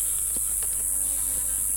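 A steady honey bee buzz hums continuously and fairly loud around an opened hive, with a few faint clicks and knocks underneath, no voices.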